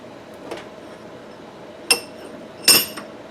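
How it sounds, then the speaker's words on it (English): Plastic HDPE soft jaws eased deeper into a metal bench vise, giving one faint tap followed by two sharp, close clinks against a quiet background. "Let me ease them down just a little deeper into the vise."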